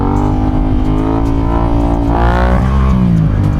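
Engine of a Yamaha MT-07 stunt bike rumbling loud and close, with rising revs and a rough, throaty idle between throttle blips.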